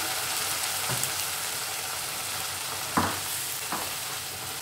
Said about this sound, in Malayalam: കുക്ക് ചെയ്ത് വെച്ചിരിക്കുന്ന പരിപ്പ് ഞാൻ ആഡ് ചെയ്തു